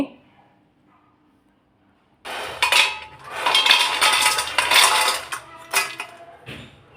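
Homemade fried kurkure snacks are tipped into a metal vessel, making a busy clatter and clinking of pieces against the pot for several seconds after a quiet start, with a voice talking over it.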